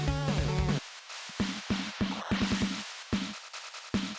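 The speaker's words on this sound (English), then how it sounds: "Now, the Nintendo drums only sound like this." NES-style 8-bit chiptune drum sounds, short clipped noise and pitched percussion hits, play in an uneven pattern after a brief synth tone, thin and fairly quiet with no talking.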